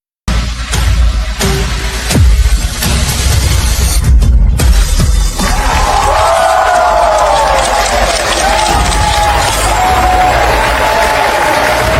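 An audience at a fashion show applauds and cheers, a loud, crackling burst of clapping for several seconds that settles into a softer crowd wash with a voice talking over it.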